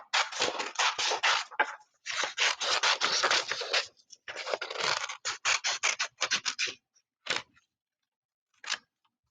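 Scissors snipping and rasping through paper while cutting out a hand-drawn paper person figure, close and dense in quick bursts of crunching cuts with brief pauses, ending in a few isolated snips; no talking.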